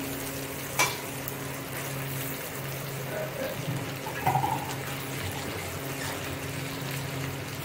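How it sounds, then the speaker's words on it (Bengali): Spice paste with a little water sautéing in a pan for jackfruit kofta, a steady soft sizzle and frying hiss throughout with brief clinks of stirring, fairly close, and no one talking over it. "তো খুব ভালোভাবে কষে নিব।"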